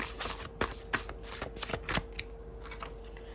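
Tarot cards being shuffled by hand, a run of crisp riffling snaps and flutters at close range, fairly quiet, with no talking.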